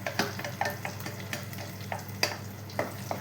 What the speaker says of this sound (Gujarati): કન્ટિન્યુ હલાવતા રહેવાનું છે ફ્રેન્ડ્સ કે ઘીમાં આ બધું મરચાંનું પેસ્ટ મિક્સઅપ થઈ જાય કરીને.